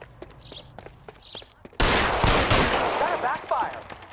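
Gunfire from the video game L.A. Noire: scattered quiet footsteps and clicks, then an abrupt loud burst of rapid shots that keeps rattling on for over two seconds.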